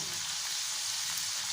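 Garlic tadka sizzles lightly in hot oil for a carrot and lemon pickle, a soft, continuous crackling fry at close range with no voices over it.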